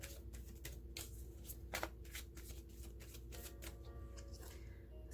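Romance Angels oracle cards being shuffled for a Pisces reading, a steady run of soft riffling snaps and papery flutters close by, with a faint low hum underneath and no talking.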